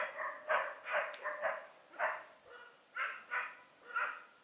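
Several dogs bark in a repeated, rhythmic series of about ten close, clear barks at a rural place in the taiga, with short gaps between them and no talking.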